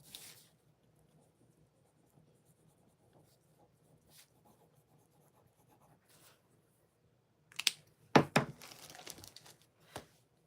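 A pen or pencil scratches across paper in a short burst of close strokes, with light rustling and faint tapping before it in an otherwise quiet room.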